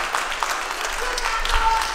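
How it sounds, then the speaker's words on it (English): Audience applause at a Bharatanatyam arangetram in a Halifax hall, a short burst of scattered clapping from a crowd, moderately loud, with a voice speaking faintly over it. "He deserves a very big applause."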